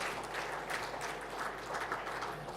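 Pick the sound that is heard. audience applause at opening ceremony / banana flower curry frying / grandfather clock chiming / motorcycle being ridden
audience applause at opening ceremony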